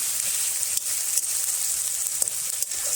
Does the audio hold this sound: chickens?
no